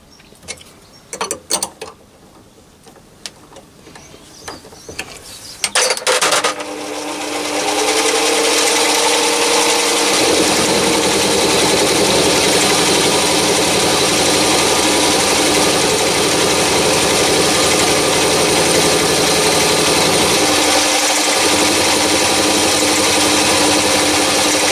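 A milling machine with a 12mm end mill takes a skim off one side of a part, first scattered clicks and knocks, then the spindle spins up into a loud continuous mechanical whine and hum that runs steadily.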